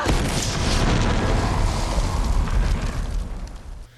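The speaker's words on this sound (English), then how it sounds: "Elena was too close to the explosion" A grenade explosion in the video game Uncharted 2 roars out as one loud, sustained, rumbling blast that fills the whole clip and tails off slightly near the end.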